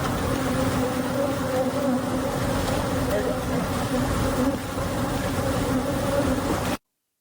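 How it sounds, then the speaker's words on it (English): A huge swarm of honeybees spilled from an overturned tractor trailer at a roadside in a neighborhood. It makes a steady, dense buzzing drone that fills the air and carries on without a break, with faint traffic behind it. "a bee problem from an overturned tractor trailer which dumped about 2 million bees"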